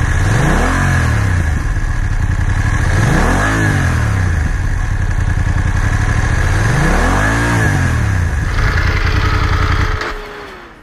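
A BMW F850GS motorcycle engine revs repeatedly, exhaust rising and falling in three loud pulls close by, then settling to idle and cutting off.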